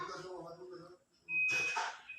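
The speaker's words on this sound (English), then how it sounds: "Water is draining, but see it's beeping." A single steady electronic beep sounds from a Midea washing machine that is not spinning, following a person's voice and mixed with a hissing, splashing rush of draining water.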